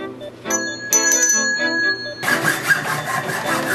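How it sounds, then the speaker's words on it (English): A Schwinn bicycle bell is struck several times, giving bright ringing tones that sustain and overlap, followed by a burst of broad rubbing or scraping noise. "So, here's what we're gonna do. We're gonna take this bell."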